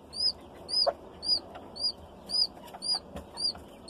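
Young chicks with their hens peep over and over in a steady rhythm, about eight clear, high calls spaced roughly half a second apart, moderately close against a faint rustling background.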